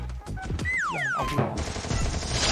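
Gunfire in a shooting video game: dense bursts of shots and crashing impacts mixed with whooshing swept tones, loud and close, without talk.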